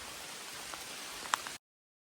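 Steady rain falls on a forest stretch of the Appalachian Trail, a dense even hiss of drops with a few louder nearby splats, heard alone before cutting off abruptly.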